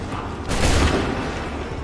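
A musket volley fired in an Assassin's Creed 3 battle erupts partway through as a loud, broad boom that blends many shots into one blast, then rolls on as a sustained rumble with no voices over it.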